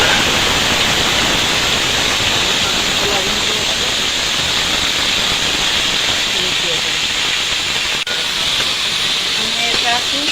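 Taro curry with green chillies frying in oil in a wok, giving a loud, steady, dense hiss and sizzle that runs unbroken throughout.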